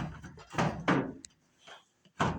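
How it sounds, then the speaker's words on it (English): The front panel of a Whirlpool WED6400SW1 electric dryer is pulled off by hand. Sheet metal scrapes and thumps in a few loud bursts, then a short click and a final clunk follow. "Okay, I got the front door off."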